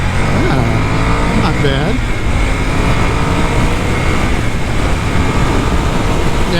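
A 2022 Ducati Scrambler Urban Motard motorcycle pulling hard from first gear, the engine note rising in pitch as it accelerates, loud and close under steady wind roar, with a rider briefly speaking.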